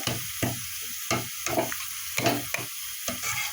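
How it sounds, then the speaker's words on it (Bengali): Winter-vegetable khichuri simmers over a low flame while salt is stirred in, a spoon scraping the pot in regular rhythmic strokes over a soft sizzle, close and unaccompanied by speech. "লবণটা দিয়ে ভালোভাবে আমি মিক্সড করে নিচ্ছি"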